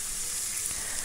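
Potato and spice masala sautéed in oil for a vegetarian potato dish gives a steady, close hissing sizzle that runs unbroken through the short moment, with no voices.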